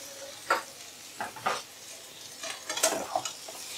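Beans and potatoes with garam masala are stirred in a pan, making a soft sizzle under a handful of quick, close scrapes and clinks that come in short bursts.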